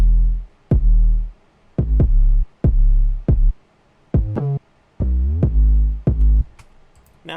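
Trap kick drum pattern layered with a sidechained 808 bass in a trap beat: sharp kicks punch in ahead of long, sustained booming 808 notes that slide and change pitch, loud and alone.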